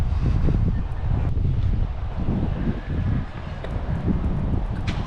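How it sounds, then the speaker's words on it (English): Strong wind buffets the microphone outdoors at a Disney resort, a loud, steady rushing roar with gusty swells, close and continuous, with no clear voices. "That's a good wind going on right now when we came around this corner."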